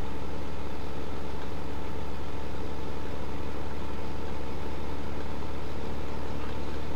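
Tractor engine pulling a bale trailer in the video game Farming Simulator 2015, a steady low droning hum running continuously at moderate level with no talk over it.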